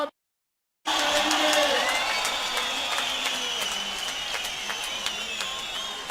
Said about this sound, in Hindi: लगातार तालियों की गड़गड़ाहट के साथ हम उनका